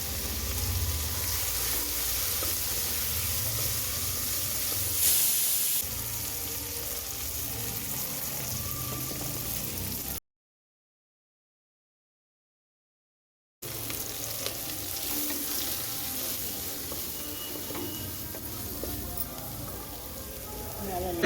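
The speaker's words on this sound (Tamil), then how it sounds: "இது கூட நம்ம இந்த வெஜிடபிள்ஸும் வதங்கியிருக்கணும்." Vegetables sautéing with chilli powder and salt in a pan for sambar give a steady, close sizzle with occasional stirring scrapes, broken by a few seconds of complete silence before the frying resumes.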